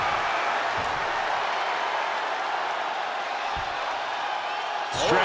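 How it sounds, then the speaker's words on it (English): Capacity arena crowd in a WWE 2K22 Elimination Chamber wrestling match roars as a steady, dense wash of cheering and applause throughout, with a brief louder swell at the very end. "With every move you make, you hear this capacity crowd following you on that journey."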